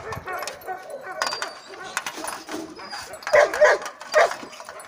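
Several dogs at a shelter in Surgut bark, yip and whimper close by in quick, uneven bursts while people talk over them.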